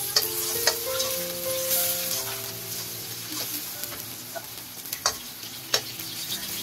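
Garlic and tomatoes sauté in a pan for a sardine dish with pechay, giving a steady close sizzle with stirring scrapes and occasional sharp clinks of the utensil against the pan.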